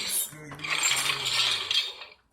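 Infinity Gauntlet toy with movable fingers making a mechanical ratcheting, whirring effect as a finger moves, a short close burst of clicking with a faint tone underneath, soft and alone.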